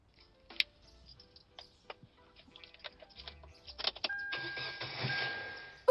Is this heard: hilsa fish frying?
no